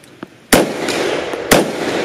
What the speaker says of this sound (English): I'm shooting expensive ammo today